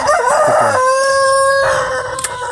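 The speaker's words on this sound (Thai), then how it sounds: "ข้างๆก็มีเหล่าไก่ครับ เหล่าไก่เรียกว่าคอกไก่" A rooster crows loudly and close by beside a chicken coop on a rural Thai plot, one long drawn-out call with a rising start and sustained middle, with some clucking around it.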